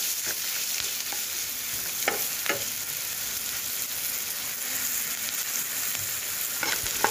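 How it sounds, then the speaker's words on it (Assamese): Onions fry with turmeric in a pan, giving a loud, continuous sizzle with occasional scraping stir strokes close by. "এইখিনি মই ফ্ৰাই কৰি লওঁ ইয়াৰ পিছত দিম মই কাটি থৈ দিয়া পিঁয়াজখিনি"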